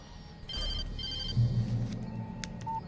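A telephone ringing in the Alan Wake video game: two short trilling bell bursts in quick succession, loud and close, followed by a low rumble and a brief electronic tone.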